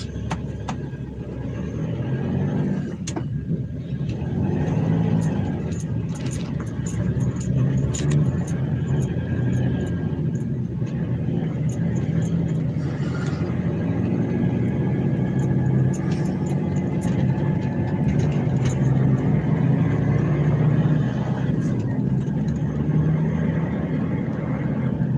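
A truck carrying a cow drives past, a steady loud engine rumble and road noise that lasts throughout and never fades away.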